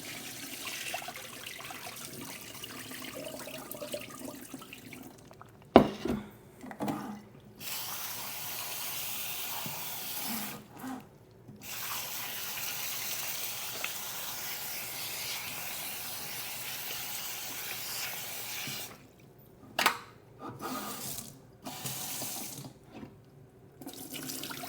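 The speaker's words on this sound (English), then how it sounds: "So I just dumped out the cloudy water, added a little bit of fresh, dumped that out" Running tap water fills and splashes into a bowl of peeled potatoes being rinsed at a kitchen sink, with cloudy water dumped out in short gushes and clattering pauses between steady pouring.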